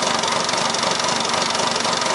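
A Volvo Penta MD22L marine diesel engine runs steadily at idle, a dense continuous mechanical drone with a fine knocking texture, loud and close, with no talk over it.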